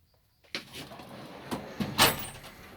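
A metal toolbox drawer slides open after a moment of silence, giving a short scraping rattle that ends in a louder clunk, heard close by.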